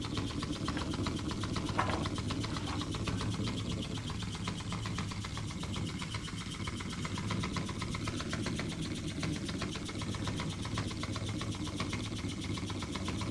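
A small bar stock wobbler model engine runs on 5 psi of air, giving a fast, even mechanical chatter that stays steady and fairly faint throughout.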